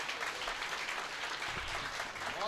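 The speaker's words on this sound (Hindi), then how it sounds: "आपकी तालियां फिर भी कमजोर हैं।" An audience at a Hindi poetry recital gives applause that is faint and distant, a soft continuous patter of clapping lasting a couple of seconds.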